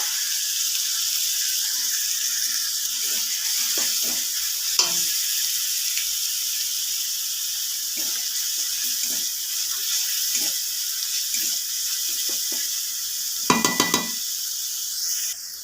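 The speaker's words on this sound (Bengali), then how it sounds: "তেলের মধ্যে আদা আর রসুনটা আমি বেটে নিয়েছিলাম দিয়ে দেবো" Ginger and garlic paste with green chilli sizzles steadily in hot oil, a continuous frying hiss broken by soft stirring scrapes and a brief metallic clatter of a utensil near the end.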